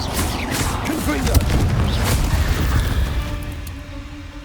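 A Confringo blasting spell explodes in the Hogwarts Legacy game, a dense roaring boom and crackling burst that swells and then slowly fades, with other game sounds layered underneath.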